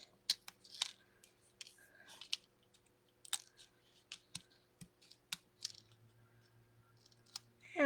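Die-cut paper pieces being peeled off a Christmas card sheet give a near, quiet run of sharp ticks and soft tearing crackles, irregular and scattered, with no talking.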